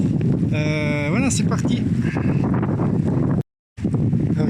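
Strong wind buffets a microphone outdoors in the Jura, roaring steadily under someone speaking French, with a whistling tone rising briefly and a short cut to silence near the end.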